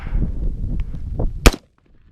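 A single sharp gunshot from an FN FN15 TAC3 AR-15 rifle fired at cardboard outdoors, a loud close crack following low rumbling background noise, then quiet.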